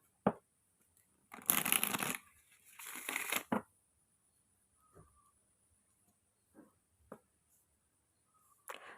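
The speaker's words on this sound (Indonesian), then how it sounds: "Oke, kita akan shuffle kartunya." Tarot cards are shuffled in a quiet room, with two close riffling bursts followed by a few soft taps and card clicks, and no talking.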